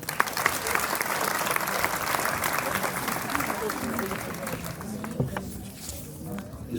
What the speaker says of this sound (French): je pense qu'on peut tous bien les applaudir